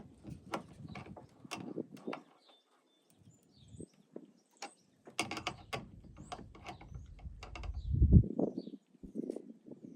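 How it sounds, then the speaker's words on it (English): A wrench tightens a battery monitor fitting on a kayak, producing scattered close mechanical clicks, ratcheting and small metallic knocks with quiet gaps between them. "we'll tighten that up with the wrench"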